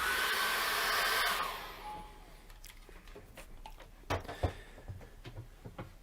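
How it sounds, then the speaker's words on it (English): Hair dryer blowing on an acrylic seascape painting, a loud steady whoosh for about the first second and a half before it cuts off, leaving quieter scattered taps and clicks. "And we're going to dry that off with a hairdryer."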